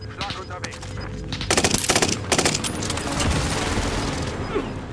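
Automatic gunfire hammers a target in Call of Duty: Modern Warfare, loud, rapid bursts that rise into a dense barrage and settle into a rumbling tail. Players talk in German over the shooting.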